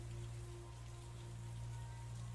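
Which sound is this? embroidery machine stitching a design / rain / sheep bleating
rain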